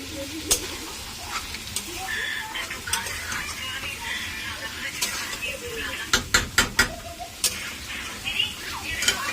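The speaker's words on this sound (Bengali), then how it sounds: "এখন আমি হচ্ছে মাংস কষাচ্ছি" Meat is stir-fried with spices in a pan for biryani, giving a steady close sizzle broken by sharp spatula scrapes and metallic clanks against the pan, especially toward the end.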